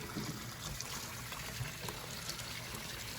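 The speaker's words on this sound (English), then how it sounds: "I'm going to turn the water on and see how hot it is" A kitchen sink faucet runs hot water in a steady, close rushing stream, a continuous watery hiss with no talk over it.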